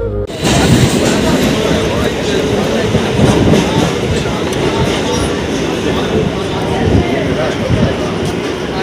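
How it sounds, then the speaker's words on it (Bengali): A train runs on rails as it pulls into Chandpura, a loud, steady rumble with clattering wheel noise for the whole stretch and voices mixed in beneath it. "আস্তে আস্তেই ট্রেন চলে এসছে চাঁদপুরাতে"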